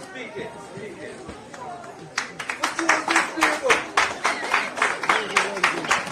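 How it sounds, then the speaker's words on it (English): An audience claps as a police band from Antigua and Barbuda walks on stage at an outdoor celebration, the clapping sharp and rhythmic, building after a quieter stretch of murmured chatter. "give them a round of applause as they come on stage"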